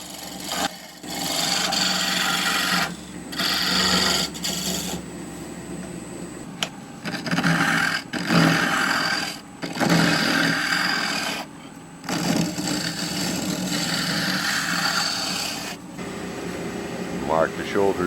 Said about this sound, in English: Rough the blank around using the trusty 3/4 inch spindle roughing gouge